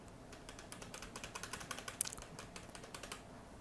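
Quiet, rapid typing of code on a computer keyboard in Notepad: a steady run of light, close key clicks with a few slightly louder taps, and no talking.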